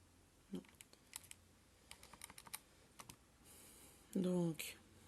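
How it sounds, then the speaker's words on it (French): Numbers being keyed into a calculator, with a series of light, irregular button taps at close range, faint and scattered, with a brief voice and a short tonal sound near the end. "on le tape à la calculatrice"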